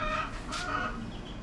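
A two-month-old young rooster crowing close by, one short, harmonic, somewhat strained call with a bright rise partway through over steady background noise.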